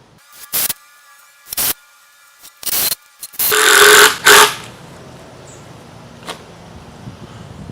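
Power drill driving 2.5-inch screws into wood: several short whirring bursts separated by pauses, then a longer, louder grinding run as a screw seats, close and without speech.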